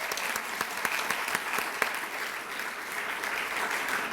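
Steady audience applause at a donor appreciation event, a dense wash of many hands clapping with a few sharper claps standing out, continuous for several seconds.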